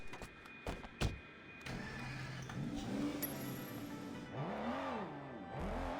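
A car drives in the Sleeping Dogs game, its engine humming and rising and falling in pitch as it accelerates. A few sharp clicks and bumps come early, and the whole sound stays fairly quiet.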